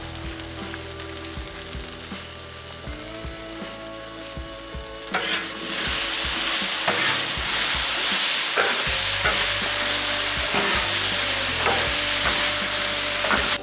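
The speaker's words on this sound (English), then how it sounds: "Now we got the taters kind of cooking up good" Potatoes fry in butter on a Blackstone griddle, a steady close sizzle that swells louder midway as more butter hits the hot surface, with intermittent spatula scrapes and clicks throughout.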